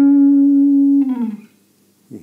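An electric guitar holds a sustained note, then slides downward in pitch to end the phrase, closing with a short fading tail and a faint string noise at the end.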